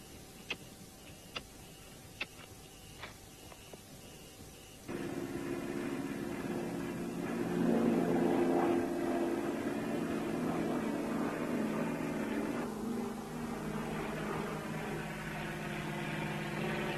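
Aircraft flying over during a wartime bombing raid in mountain passes: faint regular ticking at first, then a droning propeller engine rises in loudly, swells and slowly fades.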